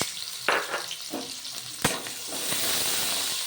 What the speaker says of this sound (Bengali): তেলের মধ্যে কিন্তু আমি আরও একটু তেল অ্যাড করে দিয়েছি আর দিয়ে দিলাম পেঁয়াজ